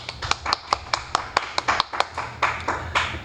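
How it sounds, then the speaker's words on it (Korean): A small group claps in a classroom lesson on technical drawing, about fifteen distinct sharp claps in a fairly regular rhythm, close and clear with no talk over them. "어유 박수."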